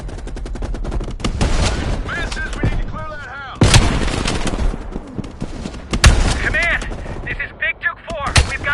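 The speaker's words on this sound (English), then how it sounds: "You readied your sniper rifle to assist." Sniper rifle shots and other gunfire ring out in a Cold War campaign video game, sharp loud reports recurring every second or two over a busy battle background with explosions and radio chatter.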